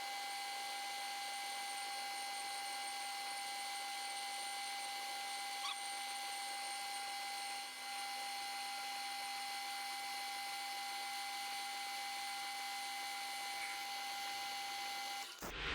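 A metal lathe taking a fine finishing pass on a toolpost holder produces a continuous steady whine with a constant hum, unbroken for the whole stretch, with no talk over it.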